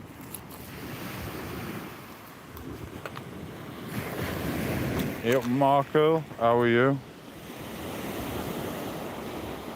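Sea waves washing onto a beach in Spain, a steady wind-buffeted surf wash with people talking briefly over it.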